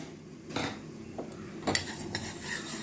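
Mustard seeds tipped into a pan with a spoon for a tomato pickle, a few quiet metallic spoon taps and clinks against the pan with faint light sizzling, no voices.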